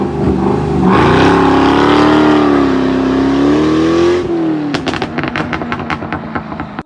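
A Vauxhall Monaro VXR with a 5.7-liter LS1 V8 in Need for Speed revs up into a loud, sustained engine roar that rises and falls. It cuts off abruptly into a string of sharp pops and crackles.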